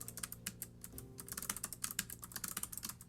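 Someone types quickly on a computer keyboard close by, a dense, uneven clatter of keystrokes that runs throughout over a faint steady hum.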